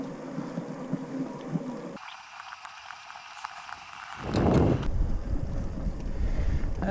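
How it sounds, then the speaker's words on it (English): Wind blows across a trail on a Florida coast-to-coast hike, buffeting the microphone with low rumbling gusts that swell loudest midway and stay strong to the end. "It's a nice wind through here, you know? Just a nice old headwind."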